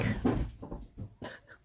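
A dog whimpers close by in a few short, breathy whines over less than two seconds, with brief pauses between them.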